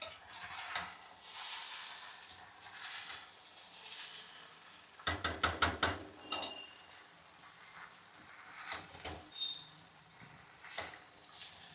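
Poha being stirred and mixed in a pan, with repeated scraping and clattering strokes of a spoon against the pan over a faint sizzle, close and fairly quiet, with no talking.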